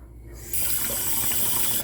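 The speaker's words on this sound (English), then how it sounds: "You got to turn it like this, and look, water will come out." Water from a kitchen faucet pours into a pot, starting with a faint trickle and then opening into a loud, steady gushing stream that runs on close to the tap.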